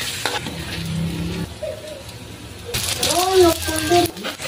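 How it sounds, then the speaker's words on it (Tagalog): Cooking oil sizzles in a pan as ingredients for Bicol Express begin sautéing, a broad hiss that swells partway through beneath a person talking, with faint utensil clinks. "So maglagay lang tayo dito guys ng mantika para maigisa natin itong ating mga sahog."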